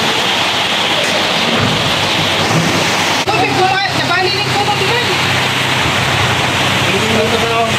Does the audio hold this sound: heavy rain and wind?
yes